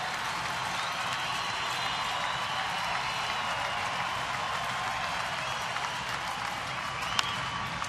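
A baseball stadium crowd of over 37,000 on its feet at a Tigers home game, a wide, steady wash of cheering and applause heard from a distance, with a sharp clap near the end.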